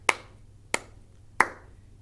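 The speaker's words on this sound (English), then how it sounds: "that is called clapping, right?" Hands clapping, four sharp isolated claps spaced roughly two-thirds of a second apart, close and clear in a quiet room with no talk.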